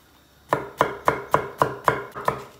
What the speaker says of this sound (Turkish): Hemen biberini doğruyoruz.